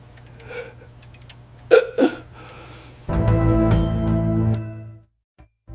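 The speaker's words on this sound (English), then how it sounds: "Not normal hiccups." Two quick hiccups sound close together near the start, followed by a sustained, louder droning tone that cuts off abruptly before a brief final click.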